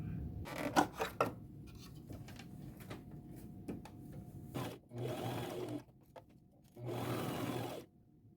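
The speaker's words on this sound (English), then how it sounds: "I'm going to sew all the way around, 1/4 inch seam allowance." A sewing machine stitches a sleeve seam on a lace duster in two short, steady runs, with soft fabric handling and light clicks before them, quiet and close.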